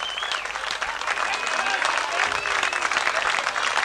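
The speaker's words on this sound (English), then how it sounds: "Big round of applause for South." Crowd applause for a rugby league side coming off after a 1992 grand final in Nhulunbuy, sustained and dense throughout with cheering mixed in and a voice over the top.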